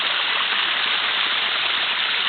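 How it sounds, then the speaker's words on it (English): A waterfall on a creek near a spring pours in a steady, dense rush of falling water, close and continuous, with no voices. "This is the waterfall."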